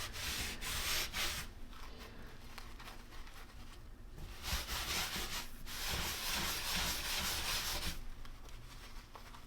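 Cloth rubbing tung oil wax over a concrete countertop, a steady close scrubbing and swishing with bursts of harder strokes, continuous throughout without any talk.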